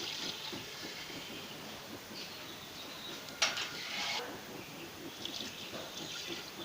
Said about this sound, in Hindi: इसके अंदर हम पानी शामिल कर देंगे।